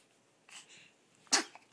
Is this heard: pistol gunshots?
no